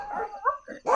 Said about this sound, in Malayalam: പട്ടി എന്നാണോ?